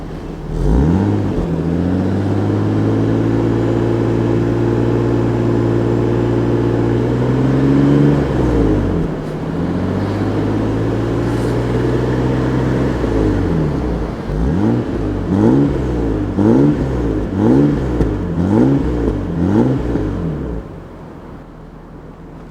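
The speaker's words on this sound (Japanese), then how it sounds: "でこれが今アイドリングの状態ね。" Nissan Skyline ER34 25GT-V with a 5-speed manual and a road-legal aftermarket muffler: a close, steady, deep idle that rises briefly, then a run of quick throttle blips before settling, with no talk.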